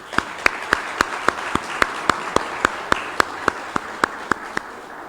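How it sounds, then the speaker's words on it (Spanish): Sparse, evenly spaced claps ring out one by one at a Guatemalan political party event after the national anthem, sharp single hits in a steady rhythm over a faint hiss of room noise. "el himno nacional debe ser aplaudido."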